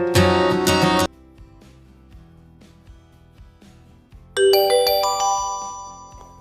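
A melodic phone ringtone plays at night, one loud burst, a pause with faint low tones, then another bright ringing phrase that fades out slowly.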